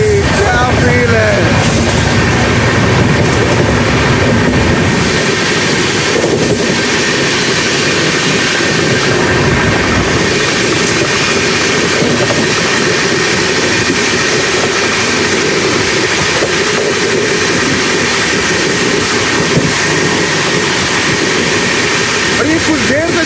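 A moving passenger train runs alongside the Malwa Superfast Express, giving a loud, steady rumble of rolling wagons and rail noise that fills the whole stretch.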